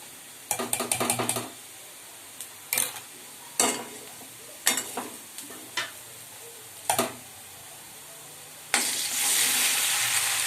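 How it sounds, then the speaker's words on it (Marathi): Finely chopped onion sizzles in a pan for pav bhaji, with a quiet frying hiss under repeated scraping stirs of a spoon, then a louder, steadier sizzle near the end. "कांदा लालसर झालेला आहे."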